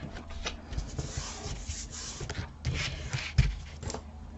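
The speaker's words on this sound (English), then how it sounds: "I've put some score tape on the one side, and just going to burnish it" Score tape being burnished onto Kaisercraft 12x12 scrapbook paper gives short, close rubbing and scraping strokes in uneven bursts, with a few sharper taps, and no talking.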